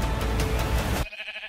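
Sheep bleating in the Minecraft movie teaser, a loud wavering bleat over dense soundtrack noise that cuts off abruptly into quieter music.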